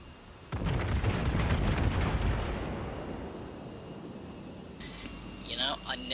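Heavy naval gun salvos from a World of Warships battleship, a USS North Carolina, firing out to starboard: a close, deep booming barrage for about two seconds that fades into a rumbling tail, with a voice speaking over the gunfire.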